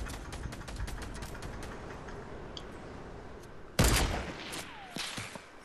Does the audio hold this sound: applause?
no